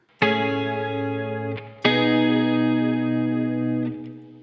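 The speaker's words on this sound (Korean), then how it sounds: "예쁘고 넓은 소리를 만들고 싶을 땐 코러스" An electric guitar through a chorus effect tuned for a pretty, wide tone strums two long sustained chords, each ringing full and shimmering before decaying, loud and alone.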